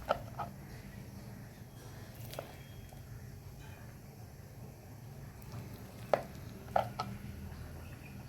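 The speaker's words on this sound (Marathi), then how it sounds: "छान अशी बारीक कट करून घेऊया." A knife chops cooled aloo vadi, a colocasia leaf roll, into fine pieces, giving a few sharp, sparse thuds on a board over a low background hum.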